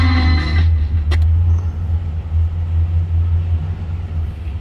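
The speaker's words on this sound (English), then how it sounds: "The 283 sounds good. A deep exhaust note." A 1965 Chevrolet Chevelle Malibu convertible with a 283 V8 idles steadily, its deep, low exhaust rumble droning close by after a brief higher whine at the start, with a sharp click partway through.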